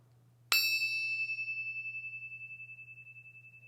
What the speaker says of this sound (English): This is a little bell.